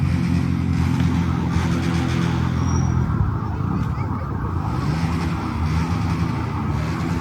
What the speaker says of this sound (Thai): แต่เสียงรถมอไซค์เสียงรถมอไซค์ดังมาก